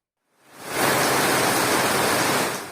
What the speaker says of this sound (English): This newly installed downspout was doing its job very well